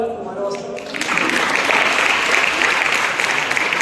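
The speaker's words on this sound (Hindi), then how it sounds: "तालियां मारो यार तुम्हारे वास्ते" A student audience at a 10th-grade motivational session bursts into applause after a brief stretch of voice, and the clapping stays loud and dense to the end.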